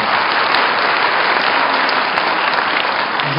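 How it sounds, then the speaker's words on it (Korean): Dense, steady applause from a crowd at a 2008 university degree ceremony following an award presentation, loud and continuous with no voices. "큰 박수로 축하해 주시기 바랍니다."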